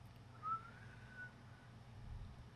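A person makes a brief attempt at whistling: a thin, faint tone rises and slides for under a second, then fades out, alone against a quiet room hum.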